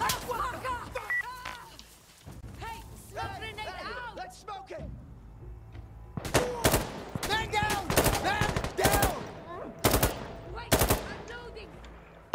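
Machine gun fire in the Insurgency: Sandstorm shooter, rapid bursts rattling out repeatedly over the second half, loud and close, with someone talking tensely throughout and scattered beeps and battlefield noise underneath.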